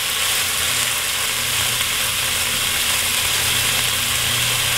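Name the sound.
beef browning and sizzling in a pan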